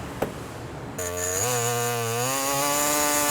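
A power tool trims a brake pedal pad for a 1970 C10's manual-transmission pedal set. After a quiet moment and a short click, it spins up to a loud, steady, high-pitched whine that holds to the end.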